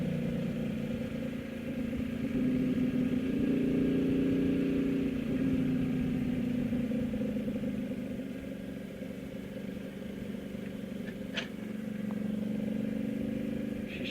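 A motorcycle engine hums steadily while riding, its mid-pitched drone swelling and easing slightly as the throttle changes, with wind rush and a brief clack near the end.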